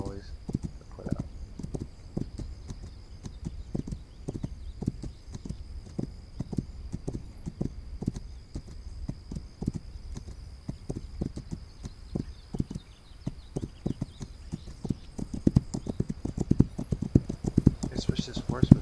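Horse hooves clip-clop steadily in the PC game This Land is My Land, a continuous rhythmic trot heard up close over game ambience, with someone talking intermittently over it.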